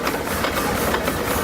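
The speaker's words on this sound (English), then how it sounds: "It's a lovely example of a Foden D-type timber tractor of 1928 called Perseverance" A 1928 Foden D-type steam timber tractor named Perseverance running at a steam rally, giving off a close, steady hiss and churning mechanical rumble over a brief stretch.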